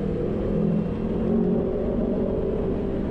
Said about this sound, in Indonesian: Mas Anggi pakai knalpot R9 Ninjanya, jadi lumayan bising, lumayan kencang suaranya Mas Bro.